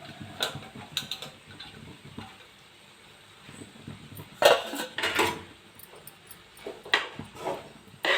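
Cooked rice being stirred into tamarind paste in a pan for puli sadam, with soft scraping and scattered clinks of a spoon against the pan, quiet and close with a few louder bursts.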